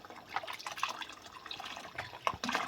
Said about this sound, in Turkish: içine bir kilodan fazla sütü ilave edeceğim